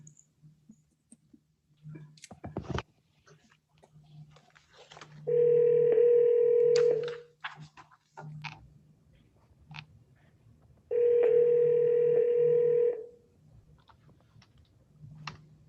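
Telephone dialing during a virtual court hearing: scattered keypad clicks and beeps, then two long ringback tones separated by a pause, fairly loud and alone.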